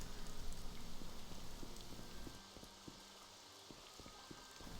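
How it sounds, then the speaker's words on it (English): Steady rain falls in the video game Morrowind, a dense, even patter of drops with faint footsteps and light knocks, fairly quiet and continuous with no talking. "It's raining, so it's okay if I get my feet wet."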